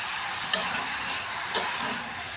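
Goat meat curry being stirred in a pot: two short scraping clinks about a second apart over a steady soft sizzle, no voices.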